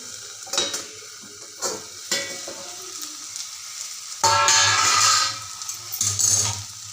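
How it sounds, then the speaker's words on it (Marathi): Dried shrimp chutney stir-frying in a pan over low heat: occasional scraping clinks, then a loud burst of steady sizzling near the end, close by. "छान असं परतवून घेतलं मी आता याला पाच मिनिट बारीक गॅसवरती होऊन देते"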